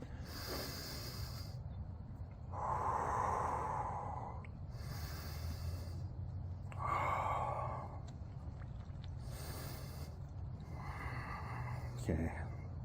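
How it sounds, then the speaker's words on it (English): Deep, slow breaths drawn in and pushed out in several long cycles just before an ice bath, each inhale and exhale loud and close, with a steady low background hum and no talking. "Take those deep, clear breaths."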